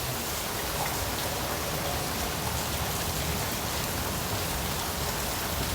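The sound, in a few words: rain falling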